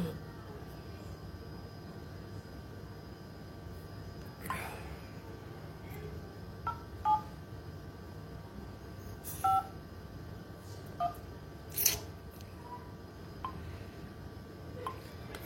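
A telephone keypad sounds a series of short dialing tones at irregular intervals, faint and close, over a low background hum.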